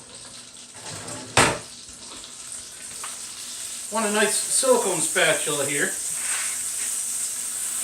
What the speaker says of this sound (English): You can hear this sizzling right now